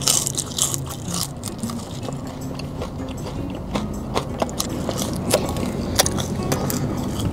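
Crunchy martabak from a Serpong street vendor is bitten and chewed close to the mic, a steady run of sharp crackling crunches over a dense, noisy background.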